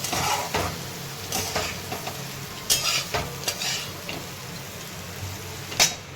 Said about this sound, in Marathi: तर आता गवरीचे शेंगा छान परतलेले आहेत